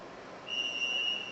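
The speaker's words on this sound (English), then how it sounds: "Upon the referee's whistle, the game is started" A thin, high referee's whistle blast at a robotics contest match begins partway through and holds steadily for under a second, faint over a soft background hiss.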